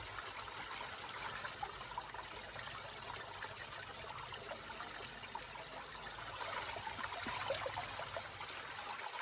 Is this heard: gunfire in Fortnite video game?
no